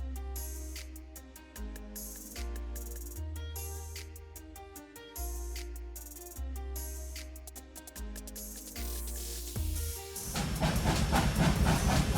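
A train pulling a long cut of freight cars out in Trainz 2019, on the Brighton Branch: a deep, throbbing locomotive drone with steady rhythmic beats, rising into a loud hiss and rolling rumble near the end, with no talk.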